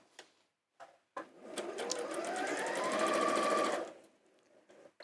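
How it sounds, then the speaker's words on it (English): A sewing machine runs in one continuous burst for about three seconds, stitching fabric wrapped around a cord, its whirring hum rising and then stopping, with a few soft clicks and handling noises before and after. "wrap your fabric around the cord and sew down the side, matching the raw edges."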